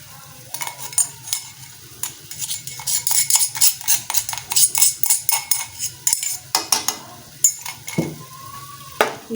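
Beef mince cooking with tomato paste for matar qeema, stirred briskly in a pan: rapid rhythmic metal spoon scrapes and clanks over a steady frying sizzle, close and loud, without talk.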